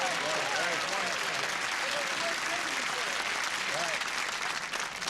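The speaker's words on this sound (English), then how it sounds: "2 people applaud." Studio audience of a syndicated TV game show applauding, a dense continuous wash of clapping that holds steady and fades slightly at the end, with voices faintly audible beneath.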